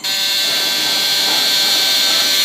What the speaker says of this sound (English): Sets off an alarm to alert people that it's going up.